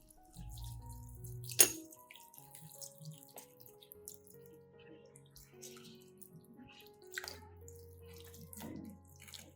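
Water is gently poured around the base of a Phalaenopsis orchid, making a quiet close trickle and scattered drips with a sharp splash near the start.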